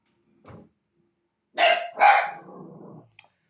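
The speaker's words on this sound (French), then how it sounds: "c'est mon chien qui supporte pas le voisin qui rentre" A house dog barks at a neighbour arriving home: a single bark, a short pause, then two loud, close barks trailing into a growl, and one last sharp yip.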